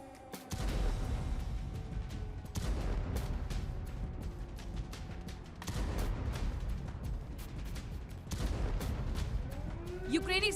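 Artillery fire and shelling in the Russia-Ukraine war: a series of heavy booms and sharp blasts at irregular intervals, each followed by a rumbling tail, loud and close.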